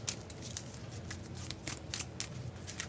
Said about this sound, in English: Shuffle in the cards, then discard cards until I get a location